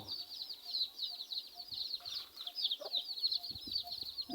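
Several chickens cluck and chatter continuously in a coop nearby, a soft murmuring flock with occasional louder squawks.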